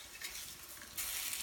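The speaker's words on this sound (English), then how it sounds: "I'm flipping these beet burgers" Beet veggie burgers with carrots and zucchini sizzle in a frying pan as they are flipped, a soft hissing crackle that swells sharply near the end after a brief scrape of the turner.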